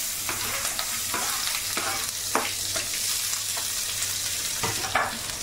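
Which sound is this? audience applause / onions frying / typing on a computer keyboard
onions frying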